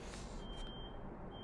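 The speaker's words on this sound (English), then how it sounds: "I apologize for the beeping" A faint, steady electronic beep tone sits over a low rumbling background, like a distant vehicle's warning signal.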